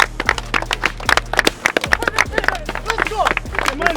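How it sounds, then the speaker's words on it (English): Many people on a football team clap and move about close by at practice, sharp irregular claps mixed with footsteps, shuffling and voices. "Come back in here clapping."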